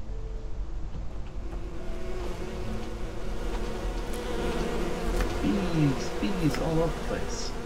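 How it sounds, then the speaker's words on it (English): A steady swarm of bees drones continuously in the Enderal video game, a dense close buzzing that persists throughout, with a brief tonal game sound rising near the end. "Bees all over the place."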